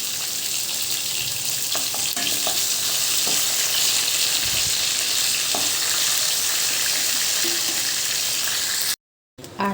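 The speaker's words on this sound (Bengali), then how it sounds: "বেশি ভাজা হবে না, অল্প অল্প ভাজলেই হবে" Potato strips, rubbed with salt and turmeric, fry lightly in a modest amount of oil for a boal fish curry, giving a steady close sizzle and occasional stirring clinks throughout, ending in a brief cutoff near the end.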